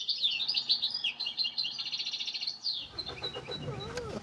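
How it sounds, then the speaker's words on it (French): A European goldfinch singing on a city balcony, a fast, bright twittering run of chirps that shifts into varied, sliding calls and trills partway through, fairly near and alone. "c'est pas normal qu'il y ait un chardonneret qui chante sur un balcon s'il n'est pas en cage"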